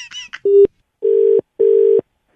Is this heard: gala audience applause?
no